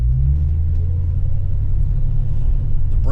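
A 1972 Plymouth Roadrunner engine runs while driving, a steady deep rumble heard from inside the car, with a brief rise in pitch at the very end.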